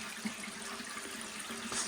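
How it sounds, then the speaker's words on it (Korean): Water flows steadily at a mountain spring in front of a temple, a soft continuous trickle and splash heard alone without voices. "물 흐르는 소리는 굉장히 많이 나는 것 같은데"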